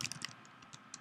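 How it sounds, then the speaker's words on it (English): Keys tapped on a computer keyboard while entering an animation asset name in the Torque 2D game editor, a quick burst of close, crisp clicks early on, then a few sparse isolated keystrokes. "I can just type in"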